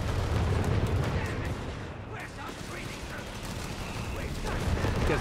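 A video game artillery barrage lands in a heavy, rumbling wash of explosions and crackling impacts, loud throughout, with a voice talking over the din.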